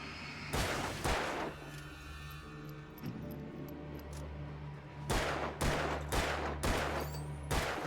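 Gunshots in the Alan Wake video game, sharp loud cracks in short clusters near the start and a rapid volley later, over a low steady background hum with no talking.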